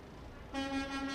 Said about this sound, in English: Festive honking.